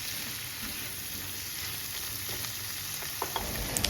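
A stir-fry with oyster sauce sizzles in a pan in a home kitchen while it is stirred, a steady close frying hiss with a few light scraping clicks toward the end and no talk.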